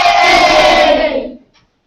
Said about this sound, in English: Give us a wave and a cheer in your classrooms if you did.